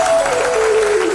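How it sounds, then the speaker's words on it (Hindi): Brief, loud audience applause welcoming music teachers at a live religious discourse event in Nanded, Maharashtra, a steady dense wash of clapping with a faint held tone over it. "एक बार हमारे संगीत आचार्यों को जोरदार तालियों से स्वागत करें।"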